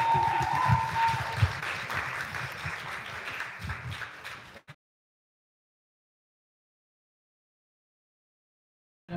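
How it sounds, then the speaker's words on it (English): Applause from a conference audience, a crowd clapping for about four and a half seconds before cutting off abruptly into silence. "Applause."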